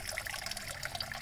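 Water pours and bubbles steadily into an aquaponics tilapia tank fed from a pond, a continuous close splashing and gurgling with no voices.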